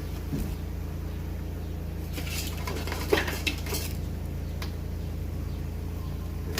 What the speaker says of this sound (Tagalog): Lagyan natin tong sitaw.